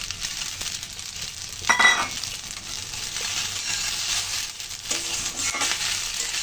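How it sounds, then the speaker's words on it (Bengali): Fried eggs tossed into pasta in a pan and stirred, close continuous sizzling with a louder clattering scrape near the start and repeated stirring scrapes, no speech. "এখন দিয়ে দিচ্ছি ভেজে রাখা ডিমগুলো।"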